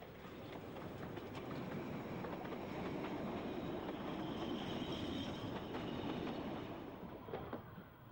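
A narrow gauge train on the Festiniog Railway runs steadily near Pen Cobb Halt on the way to Porthmadog, giving a continuous rumble with rhythmic wheel clatter and faint squeals. It stays moderately loud and constant, with no voices.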